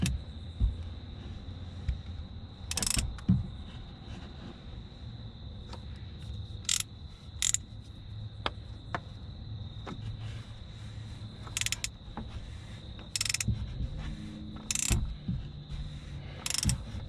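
A ratchet turns a 24 millimeter socket during an oil change on a 2021 Kia K5, giving scattered bursts of sharp, close metallic clicks over a low background hum, with no voices.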